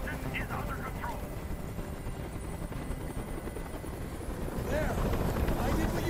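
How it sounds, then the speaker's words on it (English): A helicopter hovers overhead in the video game Detroit: Become Human, its steady rotor thrum and wind rumble loud and constant while a voice talks over it. "Tell that helicopter to get out of here."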